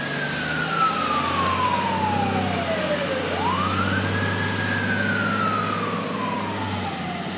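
A Clark County Fire Department engine in the Laughlin Division runs out to a medical call, its siren wailing down, then swooping up and falling again over a low, steady truck rumble, with no talking.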